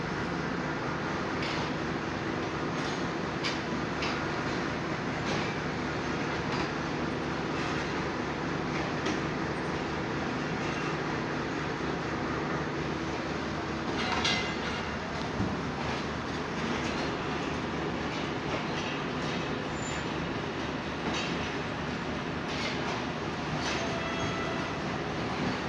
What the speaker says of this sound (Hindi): ये ट्रेन इस टाइम लाहौर से कराची जाने के लिए तैयार है।